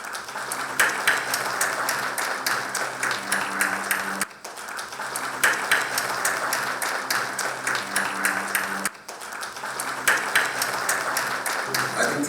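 Audience at a Google and Global Citizen India women empowerment event applauding storytellers onto the stage, dense sustained clapping, loud and close, continuing in long bursts with brief pauses.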